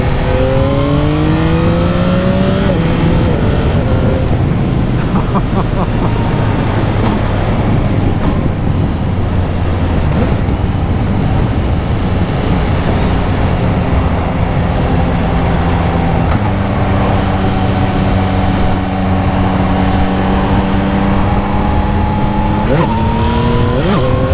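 A 2025 Yamaha MT-09 SP motorcycle engine with stock exhaust, loud and close, rising and falling through gears with rev sweeps and a steady drone between, wind noise heavy throughout.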